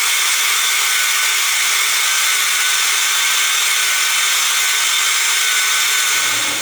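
A carpet extractor with an upholstery nozzle sucks water and dirt from a car floor mat, producing a loud, steady, hissing roar of suction that holds constant throughout, with no talk.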